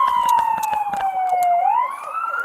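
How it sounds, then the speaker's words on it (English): An ambulance siren wails, sweeping down and back up in pitch, loud and close, with faint rhythmic clicks or knocks underneath. "You got an ambulance in front of you now."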